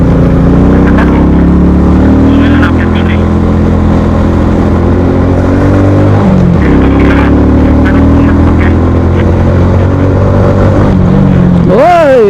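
Motorcycles on a mountain road in Bulacan ride past close by, their engines loud and revving, with the pitch rising and falling as they pass. People talk over the engine noise.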